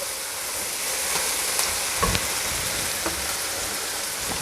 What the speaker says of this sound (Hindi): सब्जियां तकरीबन फ्राई हो गई हैं। थोड़ा सा मसालों के साथ इनको पकाएंगे।